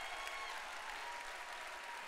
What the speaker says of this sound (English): Give them a big round of applause and a big thank you.